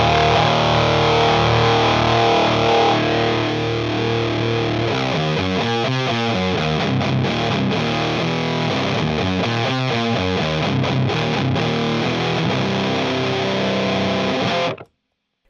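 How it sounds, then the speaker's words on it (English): Electric guitar through a Boss HM-2 distortion pedal, loud saw-toothed fuzz-like tone with sustained chords and choppy rhythmic bursts in the middle, ringing out before cutting to silence at the end. "The distortion character is also really distinctive."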